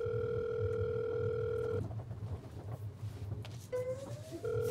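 A telephone ringback tone on a Korean variety show, with a call going unanswered: a steady electronic tone cuts off partway, then a second ring begins after a short silence. Nobody speaks over it.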